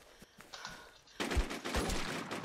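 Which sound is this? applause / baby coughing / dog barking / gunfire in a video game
gunfire in a video game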